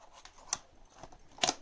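Cardboard knife box packaging being opened, a few quiet, brief scraping and tearing snaps with short pauses between them, close by with no talking.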